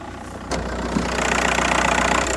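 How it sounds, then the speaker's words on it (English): A Volkswagen Golf engine idles steadily, a low continuous rumble that steps up in loudness after a sharp click and then holds an even running drone with no talk over it. "this is the engine of the Golf, and you can see it's running right now"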